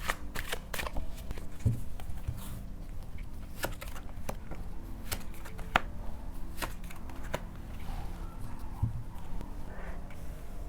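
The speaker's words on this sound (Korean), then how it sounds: "또 다른 카드도 뽑아볼게요." Tarot cards shuffled and drawn from a deck, giving quick papery riffles and a series of sharp card snaps and flicks at irregular intervals, close and moderately loud with no voices.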